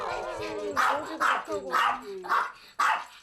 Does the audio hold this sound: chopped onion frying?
no